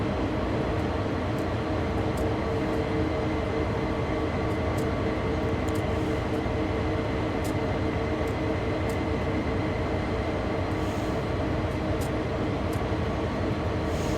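Train carriages roll past in a steady, dense rumble with a constant hiss that holds evenly throughout, close and moderately loud, with faint ticks from the wheels.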